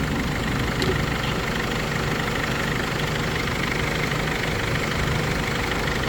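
A 2005 Mercedes Sprinter 313 van's diesel engine idles steadily with an even, low rumble throughout, heard close up under the open hood with no talking.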